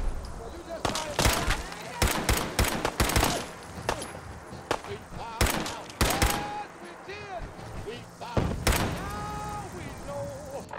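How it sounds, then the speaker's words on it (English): Gunfire in the video game Fallout 4, with repeated sharp shots in irregular bursts, some rapid and clustered, over a busy game soundscape with a voice speaking. "I can hear gunshots"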